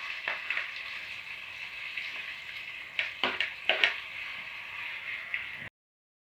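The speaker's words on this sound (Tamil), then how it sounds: "நல்லா கோல்டன் ஃப்ரை ஆகிற வரைக்கும் வதக்கி விட்டுட்டே இருங்க" Chopped onions with cumin sauté in hot oil in a kadai, giving a close, constant sizzle with a cluster of scraping stirs midway before the sound cuts to silence.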